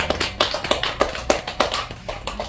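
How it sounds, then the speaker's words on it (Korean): Congregation at a prayer-house worship service claps in a steady rhythmic beat, about two claps per second, with sharp repeated hits and no talk. "하나님께 영광 박수 돌립시다"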